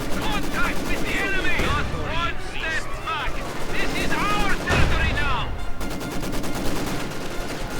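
Company of Heroes 2 battle in which a Panzer IV fires on a T-70 tank: repeated booming cannon and gunfire blasts with crackling machine-gun bursts and explosions, dense and loud, under continuous commentator speech.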